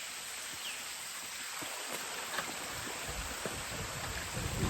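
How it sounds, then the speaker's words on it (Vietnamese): Light rain falling steadily outdoors on a rural farm, a soft even hiss with scattered faint drops and taps, heard alone at low level. "Ôi mưa thật rồi."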